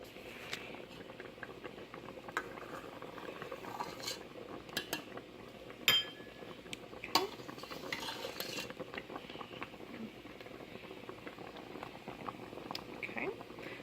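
Foam being skimmed off boiling homemade strawberry jam: a steady bubbling simmer with frequent scrapes and clinks of a spoon against the pot, close and moderately quiet.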